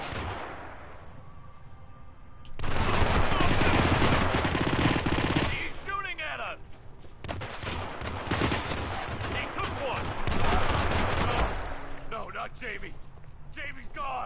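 Automatic gunfire in the Hitman video game's Paris level, long loud bursts of rapid shots with quieter gaps between, under a player talking during play.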